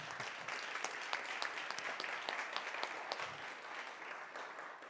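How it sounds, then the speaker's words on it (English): Audience at a quantum computing symposium clapping in a steady, dense round of applause, moderately loud and holding evenly throughout with no talk over it. "Maybe a big round of applause for you."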